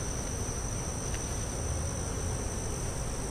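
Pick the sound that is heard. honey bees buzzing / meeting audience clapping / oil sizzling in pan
honey bees buzzing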